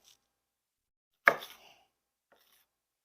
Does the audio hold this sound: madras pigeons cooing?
no